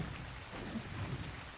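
Steady rain hisses in the survival video game ARK, a soft, even patter with faint low rumbling beneath and no speech.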